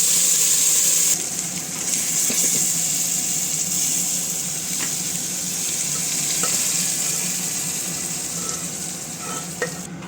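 Lentils tipped into a pan of hot tempering with curry leaves for green chili tomato dal, a sharp sizzle at first, then a steady fry with light stirring scrapes.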